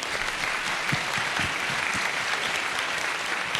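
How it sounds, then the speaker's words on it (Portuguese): A live comedy audience at a show with Ricardo Araújo Pereira and Gregório Duvivier applauds. The clapping is even and sustained, heard fairly quietly and alone. "As pessoas estão a aplaudir"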